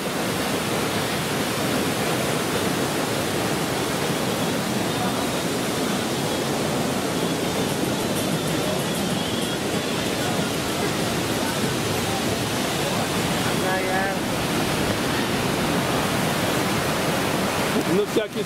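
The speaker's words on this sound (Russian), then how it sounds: "пошла вода, смотри, переливает. Ага. Горные потоки." Rushing mountain water of the Manavgat river rapids, overflowing in a steady, loud, unbroken roar like a waterfall, heard up close for the whole stretch, with a voice or two only faintly present beneath the torrent.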